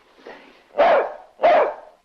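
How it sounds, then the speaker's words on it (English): A dog barks three times, one soft bark followed by two louder, sharper ones, close by and with no other sound around them. "I haven't heard Corky bark in ages."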